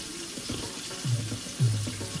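Water runs from a kitchen tap into a pot of NeoStar Ramen Delight Savory Chicken instant noodles to dilute the broth, a soft steady splashing with a couple of louder gushes as the flow strengthens.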